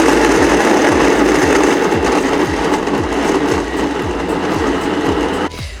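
A blender grinds cut-up bananas on its low setting with a loud, continuous whirring hum and rapid rhythmic chopping pulses, cutting off abruptly near the end.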